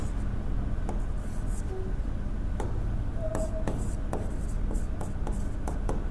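Writing is wiped off a classroom board while a teacher reviews Indian Parliament polity questions. A steady dry rubbing carries on throughout at close range, with a few light taps.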